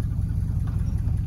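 Steady low-frequency engine rumble from a 1983 Chevrolet C20 pickup truck driving uphill through a farmer's field, continuous and close with a slightly uneven throb.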